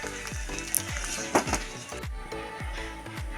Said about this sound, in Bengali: দেখুন, এইভাবে সবগুলো আমি ভেজে নেব।